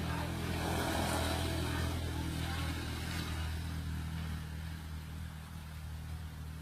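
A motorbike engine drones past on a jungle roadside, loud at first with a low rumbling hum that gradually fades as it moves away.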